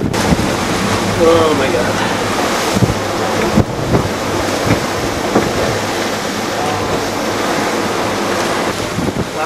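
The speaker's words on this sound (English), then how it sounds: "Big waves, blowing pretty hard right now." Big ocean waves and strong wind roar around a racing sailboat in rough weather during the Vendee Globe solo round-the-world race, a loud continuous wash with gusting wind buffeting the microphone and a man's brief exclamation.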